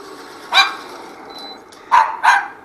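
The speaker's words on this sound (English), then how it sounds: "my dogs are barking" Dogs barking indoors inside a house: one sharp bark, then two more close together a moment later, fairly loud and near, over a low steady room hum.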